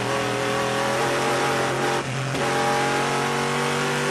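A damaged Le Mans race car limps slowly back to the pits, its engine holding a steady, loud, buzzing drone with only a brief dip in the middle.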